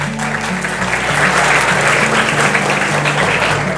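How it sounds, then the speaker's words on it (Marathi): An audience at an MPSC quiz contest at Bhande Sir Academy breaks into steady, loud applause that fills the room evenly throughout, with a low rhythmic musical pulse running underneath. "एक वेळा जोरदार टाळ्या होऊ द्या"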